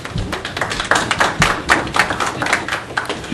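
Scattered hand clapping at a town council meeting in Bristol, a modest burst of claps from a small group in a meeting room, close and uneven.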